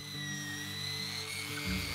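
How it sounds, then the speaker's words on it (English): Steel wire wheel on a power tool spinning against reclaimed wood for a mantle, a steady whining mechanical drone with a buzzing hum that shifts slightly in pitch near the end, close and continuous. "By wire brushing this, we just get rid of that loose grain on there."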